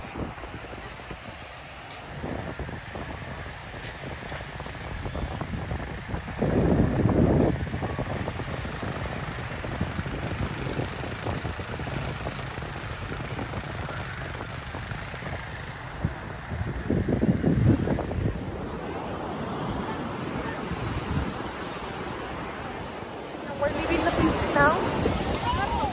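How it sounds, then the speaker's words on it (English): Waves wash up on a beach in steady rolling surges, a broad roaring rush with swells at intervals and gusty wind buffeting the microphone, with voices talking at points. "we're at the beach"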